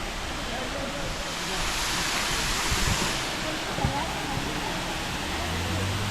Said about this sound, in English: So now I arrived in Şelale, which is called waterfall.